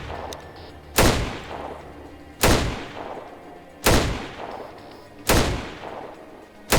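Hunting rifles fire in the post-apocalyptic video game ATOM RPG, five loud, evenly spaced shots, each with a sharp crack and a long echoing decay.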